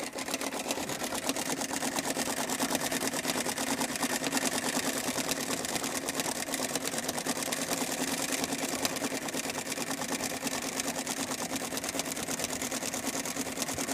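A Singer 306 sewing machine stitches fabric in meandering free motion, a steady rapid mechanical whir with fast rhythmic needle clatter, running continuously and close by with no talking.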